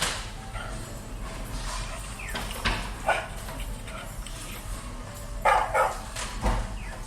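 Recorded Labrador barking, a few sharp barks spaced irregularly, played back and heard under a room's background hum.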